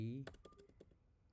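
Several quick keystrokes on a computer keyboard, soft irregular clicks following a brief tone, fairly quiet and close.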